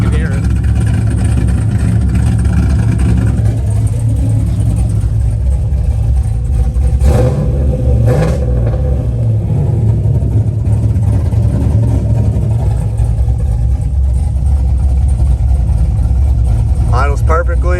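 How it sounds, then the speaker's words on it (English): A 500hp Pontiac WS6 engine idles with a steady, loud low rumble, then revs briefly around the middle before settling back to idle. "Give it a rev so you can hear it"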